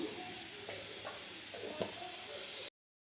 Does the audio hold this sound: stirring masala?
yes